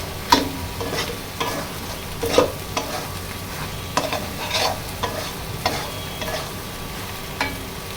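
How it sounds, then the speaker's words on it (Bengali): Spiced beef liver masala with bay leaf, cinnamon and cardamom is stir-fried in a pan, a spatula scraping in rhythmic strokes over a constant low sizzle, close and clear. "ভালো করে মশলাটাকে এখন আমি কষাবো"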